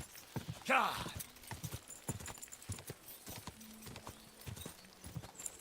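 Horse hooves in the medieval game Kingdom Come: Deliverance 2, a rapid, steady clip-clop of galloping throughout, with a brief whinny near the start and someone speaking over it.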